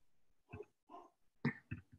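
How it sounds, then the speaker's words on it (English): A few short, muffled barks or grunting animal calls in an irregular series, fairly faint and distant, with quiet gaps between them. "I got barking dogs in the background"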